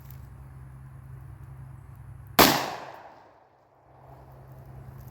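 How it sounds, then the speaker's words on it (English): A single loud shotgun blast from a Winchester Super X 3-inch shell, a sharp close crack with a long decaying tail, standing alone against steady outdoor background noise. "How'd I miss with a shotgun?"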